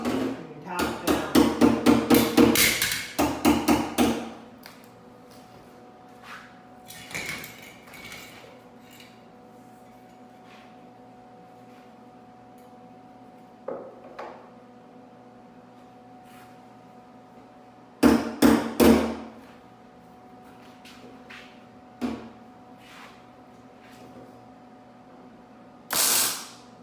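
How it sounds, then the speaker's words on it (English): A body hammer taps on a car body panel on a Turbo Cobalt SS, with rapid clusters of metallic strikes near the start and again midway, plus scattered single taps and quiet gaps. "you want to take your body hammer. And you just want to make sure you can tap it down"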